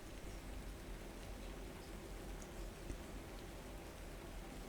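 Steady, soft rain falling on a city street, a faint, even hiss with scattered drops and no voices.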